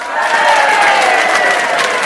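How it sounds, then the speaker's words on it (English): Crowd cheering and applause sound effect played at a home karaoke night, a steady broadband wash of distant-sounding cheers held at even loudness for about two seconds, with no distinct voices standing out. "crowd goes wild."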